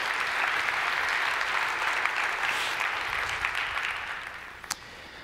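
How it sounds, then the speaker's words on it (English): Keynote audience at a DevOps conference in San Francisco applauding, a broad sustained wave of clapping that slowly fades toward the end. "you can applaud yourself"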